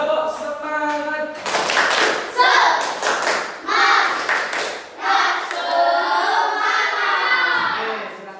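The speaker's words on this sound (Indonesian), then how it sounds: "Kalau siap, kita satu kali lagi tepuk semangat." A primary school class of children does a rhythmic spirit clap, with loud patterned bursts of claps and thumps mixed with their chanting voices in a classroom.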